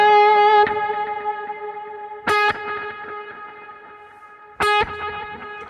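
Electric guitar chords ring out three times, each decaying with a trail of repeating echoes from a delay effect, played alone.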